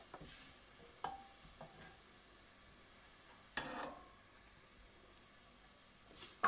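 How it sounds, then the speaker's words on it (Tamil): Mustard seeds, cumin and coriander fry in hot oil in a pan, a soft steady sizzle broken by a few sharp pops and stirring scrapes, quiet and close with nobody talking. "இப்போ எண்ணெயில் வந்து கடுகு சீரகம் கொத்தமல்லி போட்டுக்கலாம் லைட்டாக வதக்கி விட்டுக்கோங்க"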